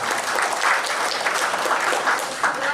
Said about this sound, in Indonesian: Tepuk tangan teman-teman.